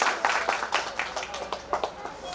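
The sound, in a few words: audience applauding a cooking contest participant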